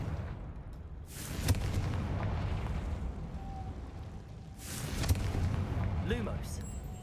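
Two booming blasts from the Confringo blasting curse in Hogwarts Legacy erupt a few seconds apart, each a sudden crackling burst over a constant low rumble of battle noise.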